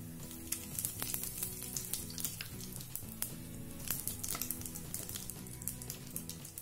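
Whole spices including chillies, bay leaf, cloves, green and black cardamom and black pepper sizzle in hot oil for veg biryani, a dense close crackle with sharp pops throughout.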